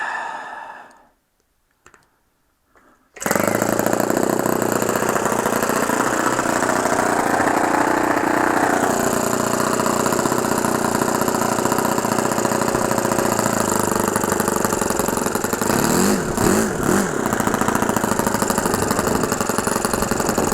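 An OS FS-70S model four-stroke engine starts after a few quiet seconds and then runs steadily at a fast idle, loud and close, with a constant buzzing drone and no speech.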